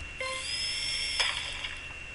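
High-pitched dental-style drill whine from a Kodu video game, as a rover drills into sedimentary rock on Mars; a steady tonal buzz with a brief burst partway through, alone and fairly loud.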